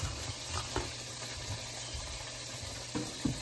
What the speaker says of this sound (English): going to add in my onions and my garlic. All that garlic. Stir that in.